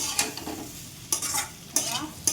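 Pumpkin and potato frying with dried Bombay duck in a pan, heard as close scraping stirs in several bursts over a low, steady sizzle.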